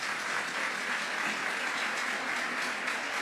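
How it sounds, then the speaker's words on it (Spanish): An audience applauds in a steady, dense wash of clapping that holds evenly throughout, with no talk over it. "Me llevo también todos los aplausos."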